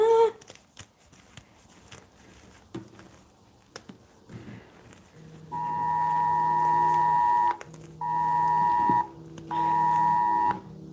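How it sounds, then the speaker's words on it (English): A phone emergency alert sounding three long, loud, piercing tonal beeps, each a couple of seconds with short gaps between them, after a stretch of faint handling noise. "Sorry, I don't know if you guys heard that emergency alert."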